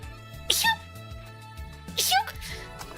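In a video game scene, a character gives two short, sharp sneezes about a second and a half apart over steady electronic background music.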